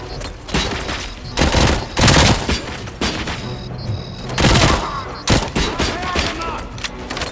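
Gunfire in RoboCop: Rogue City, loud repeated volleys and bursts of shots and thuds, separated by brief pauses, with heavy fusillades clustering close together.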